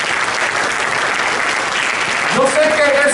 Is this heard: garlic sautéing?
no